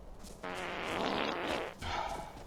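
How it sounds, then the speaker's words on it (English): A fart sound effect played from an Alexa smart speaker: one rippling, buzzy blast lasting over a second, then a short second puff, heard close with no talking. "Alexa, fart."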